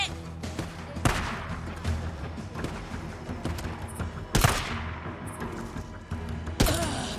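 Gunfire in the video game Days Gone comes as sharp shots and bursts, with several loud cracks standing out against busy background game noise.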